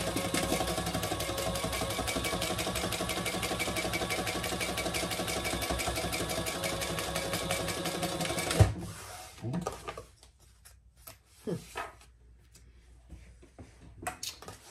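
A sewing machine top stitches a fabric sling bag, a fast steady mechanical whir-clatter for about eight seconds that stops abruptly, followed by a few handling thumps and rustles.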